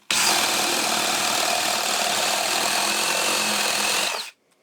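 A drill fitted with a freshly sharpened spade bit bores through wood in one loud, steady grinding burst lasting about four seconds. It then cuts off abruptly, with no voices.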